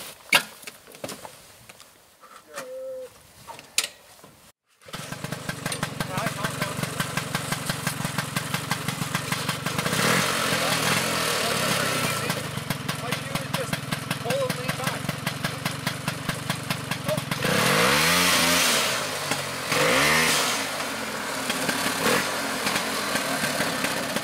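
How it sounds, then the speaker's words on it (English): Snowmobile engine fires up after a short pull, then runs with a steady, rapid mid-range chug and a few revs, loud and close; a voice is briefly heard before the start. "So what we're going to do is we're just going to start this sled up."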